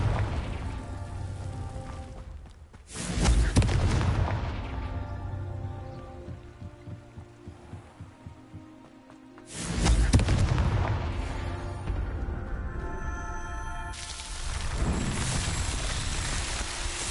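Two booming Confringo blasting-spell explosions from Hogwarts Legacy hit roughly six seconds apart, each a loud broadband burst with a rumbling tail, followed by a sustained noisy rush near the end; no one speaks.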